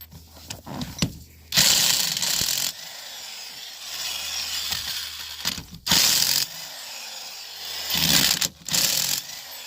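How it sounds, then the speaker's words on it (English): Several loud bursts of an impact wrench rattling and whirring as it removes wheel nuts on a 2001-05 Honda Civic, separated by pauses with quieter clicks and handling noises, close by. "you're going to put it on your impact gun"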